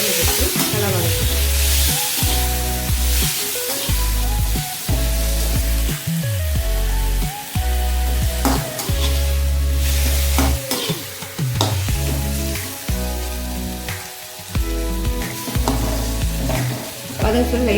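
Large-cut onions and tomatoes sauté in a hot pan for a spicy tomato chilli chutney, with steady loud sizzling and repeated stirring scrapes running continuously throughout, close up and without speech.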